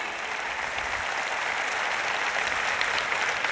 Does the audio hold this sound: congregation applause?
yes